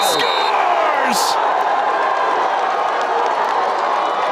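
A crowd at an NCAA lacrosse tournament game between Richmond and North Carolina cheers loudly after a goal, a dense sustained roar of voices with whoops, heard at a distance.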